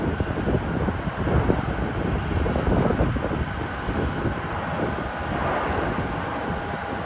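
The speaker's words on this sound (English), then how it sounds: "British Airways A390 coming in from Paris Charles de Gaulle." A British Airways Airbus airliner on approach to land at Heathrow makes a broad, sustained jet roar at a distance, partly masked by gusting wind on the microphone, with no talk.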